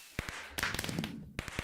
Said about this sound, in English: Woo! Fireworks!